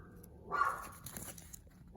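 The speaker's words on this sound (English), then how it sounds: "Sorry about my dogs barking." Household dogs barking indoors, a couple of muffled, fairly faint barks and yips spaced apart, heard from a little distance with no talking over them.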